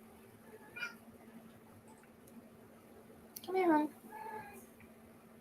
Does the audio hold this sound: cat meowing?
yes